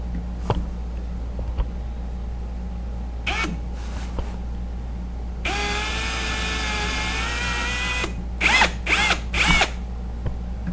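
A power drill drilling out rivets on an EZGO TXT golf cart whines in a sustained burst of several seconds, then several short trigger pulls follow, with scattered clicks and clunks between, close by.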